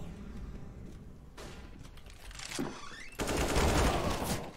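Counter-Strike gunfire on the Tuscan map, with bursts of shots and clattering noise that swell into a dense, loud volley near the end.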